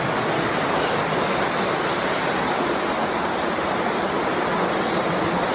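An underground river flowing through a cave, heard as a constant dense rushing roar of water that stays loud and steady throughout, with no voices.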